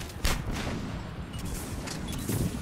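Gunfire in a multiplayer video game, several rapid sharp shots and booming bursts over a noisy battle din, moderately loud with no talking.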